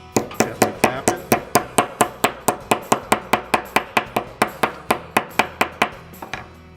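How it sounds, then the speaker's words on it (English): A rawhide mallet taps along a fold in sheet metal, giving about twenty-five evenly spaced, sharp knocks in a quick, steady rhythm that slows and stops near the end. "I'm going to take a rawhide mallet and gently tap it."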